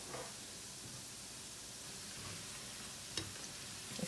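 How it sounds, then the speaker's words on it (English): Nigerian chinchin dough frying in oil over medium heat, a steady close sizzle and hiss with a couple of brief sharper crackles. "So when you fry on medium heat, it cooks very properly."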